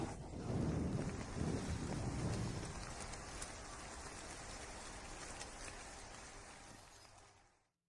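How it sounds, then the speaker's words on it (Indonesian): Heavy rain pours down in a dense, roaring wash, loudest at the start with a deep rumbling layer, then settling into a steady hiss before cutting off abruptly near the end. "Nyonya, hujan begitu deras."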